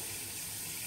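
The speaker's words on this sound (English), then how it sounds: "you're going to go ahead and get your tap water as hot as you can get it" Hot water runs steadily from a household tap for the whole moment, a continuous even hiss of flowing water close by with no voices.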